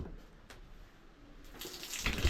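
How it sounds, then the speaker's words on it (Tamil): Water gushes fast from a bathroom tap at a bathing spot on Delft Island, a steady hiss of flow swelling louder toward the end. "தண்ணி நல்ல வேகமாக தான் வருது"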